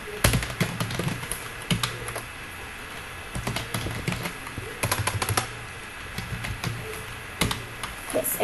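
Employee names being typed into a computer keyboard, with bursts of rapid key clicks separated by short pauses, close and crisp.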